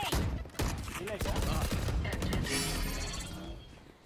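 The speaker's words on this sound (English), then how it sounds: "Grenade." Grenade and gunfire in the competitive shooter Valorant: loud bursts and crackling shots in a dense game mix, with a voice speaking briefly among the noise.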